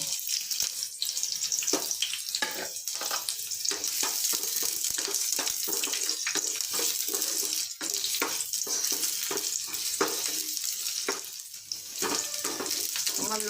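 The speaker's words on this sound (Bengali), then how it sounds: "এখানে আমার লঙ্কা আর পেঁয়াজ এটা আমি লাল করে নেব" Green chili and onion fry in a little hot oil in a kadai, giving a steady, fairly loud sizzle and crackle throughout, with occasional stirring scrapes and no talking.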